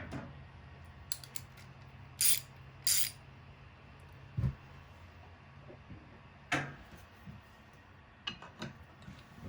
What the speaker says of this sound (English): I have to take those, at least one bolt off, if not two.